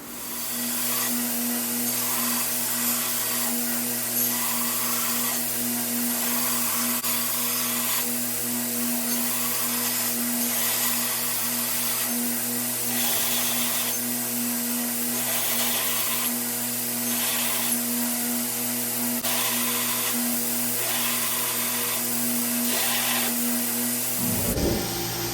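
Grinder working over a handmade axe blade and its collars, a steady close whine running throughout with slight surges as the pressure changes, stopping abruptly near the end.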